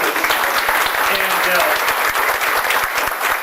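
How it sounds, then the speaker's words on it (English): Loud, dense applause from a school audience at a Summer Creek High School gathering, continuous clapping for several seconds with murmured voices underneath. "Let's give him a little bit bigger applause."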